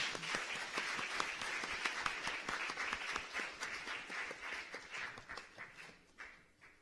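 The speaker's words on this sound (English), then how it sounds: "So please give another round of applause as the Director General makes her exit" An audience at a UNESCO youth conference on education for sustainable development applauds as a speaker leaves the stage, with crisp, steady clapping that gradually thins and fades toward the end.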